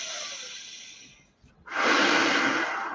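Deep breathing heard up close: one long, airy breath fades out, a brief near-silent pause follows, then a louder, fuller breath swells and holds, with no speech.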